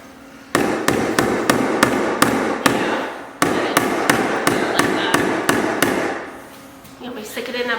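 Repeated sharp knocks as tile mortar is banged off a trowel into a bucket during a shower tiling job, a steady series of loud close strikes, then scraping at the end.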